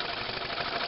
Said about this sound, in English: any of these little steam engines are run extremely fast